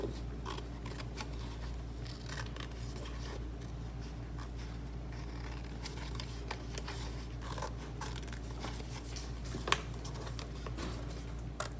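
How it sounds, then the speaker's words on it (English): Scissors snip along drawn lines on a sheet of paper in a classroom craft, a steady stream of small close cuts and crinkles over a low constant hum, no voices. "you're gonna cut out all of your lines."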